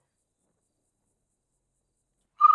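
After near-total silence, a person's voice imitates a cricket with one brief, fairly close chirping trill right at the very end, during a meeting.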